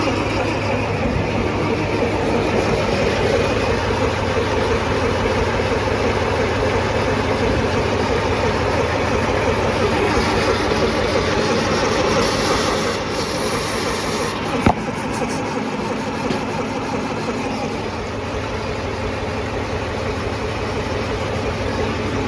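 A Farmall 140 tractor engine, its ignition timing set wrong, runs in a steady, rough, continuous drone at close range, holding an even loudness throughout.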